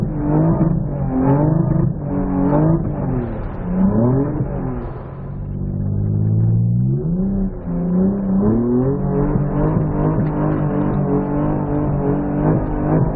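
An Infiniti G35 drifting in snow, its engine revving hard and rising and falling in pitch continuously, loud and close, with no voices over it.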